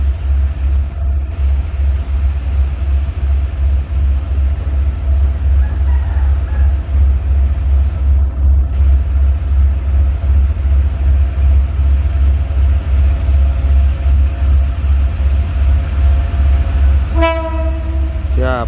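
A CC202 diesel locomotive rumbles past close by with a deep, loud, continuous engine drone, and a blaring horn sounds near the end.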